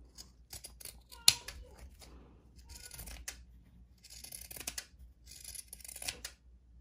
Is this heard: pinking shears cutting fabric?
yes